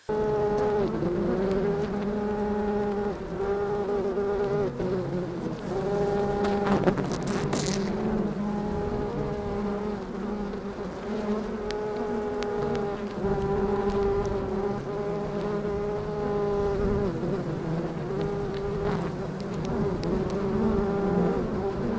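Honey bees drone in a dense, steady buzz at close range, continuous and full, with layered humming tones that shift slightly in pitch throughout.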